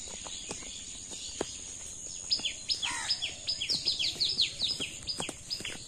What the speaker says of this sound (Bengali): পাখি শব্দ চতুর্মুখী